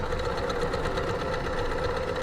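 A sewing machine runs steadily throughout, stitching a skirt onto a dress bodice with the seam allowances sewn down flat, a continuous close whirring hum with no pauses.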